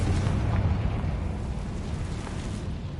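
A Confringo fire spell in Hogwarts Legacy bursts into a dense, rumbling explosion that holds at a steady roar for about three seconds with no voices over it.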